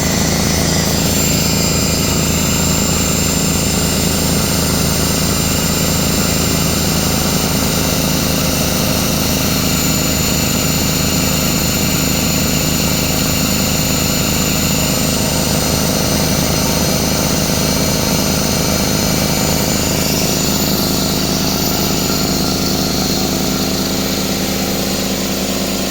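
An air compressor motor with a sparking brush runs loudly and steadily, close by, in a constant droning whine with a dense buzzing hum throughout.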